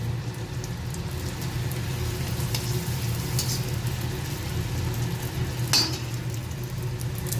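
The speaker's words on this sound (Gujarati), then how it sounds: "જોઈ શકો છો કે મેં અહીંયા પૂરી તળવાનું ચાલુ કરી દીધું છે" Constant soft sizzling of food frying in hot oil, steady and close, with a few faint clinks and no talking.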